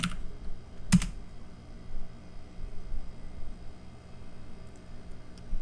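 Someone types on a computer keyboard with soft, quick key taps in an irregular stream, plus a sharper clack near the start, over faint background hiss.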